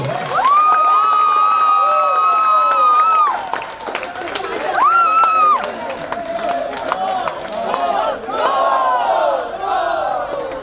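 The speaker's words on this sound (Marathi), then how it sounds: "मित्रांनो जोरदार टाळ्या होत्या हर्षितसाठी" A crowd at a Jam Premier League 2024 prize ceremony in Lalbaug claps and cheers loudly, with shouts rising in bursts as someone talks over a loud PA system.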